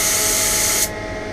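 A Graco XT airless spray gun sprays a wide fan in a loud, steady, close hiss. The hiss cuts off abruptly just before the end, leaving a quieter residual hum.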